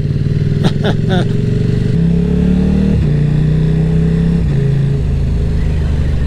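A KTM 1190 RC8 R sport motorcycle engine pulls hard under acceleration, its loud droning note stepping down at several quick quickshifter gear changes, while a rider talks over it.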